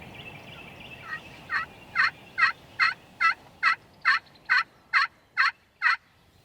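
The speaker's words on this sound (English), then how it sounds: "It wasn't long before a gobbler fired up right in the hardwood draw below them." A wild turkey tom gobbles in a hardwood draw, about a dozen sharp, rattling gobbles repeating evenly every half second or so, clear and fairly close over a quiet outdoor background.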